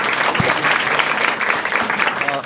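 A live audience at a Marathi stand-up comedy crowd-work show claps loudly and steadily, a full sustained burst of applause from the room.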